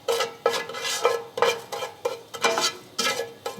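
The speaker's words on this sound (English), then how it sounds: "you see the cumin is beginning to sizzle a bit" Cumin seeds sizzle in heating oil in a pan, with rhythmic scraping stirring strokes roughly every half second over a steady frying hiss.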